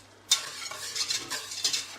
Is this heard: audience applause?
no